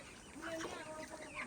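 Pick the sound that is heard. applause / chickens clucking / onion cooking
chickens clucking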